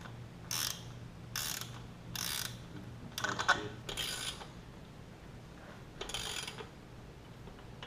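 A hand ratchet tightens the drive chain on a dirt bike, clicking in about six separate close bursts over a low steady background hum.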